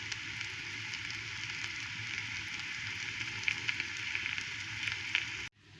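Food sizzles steadily in a hot pan, a close, even crackle with occasional sharper pops, ending abruptly near the close; onion and carrot frying for a dumpling filling.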